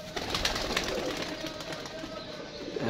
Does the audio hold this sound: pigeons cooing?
yes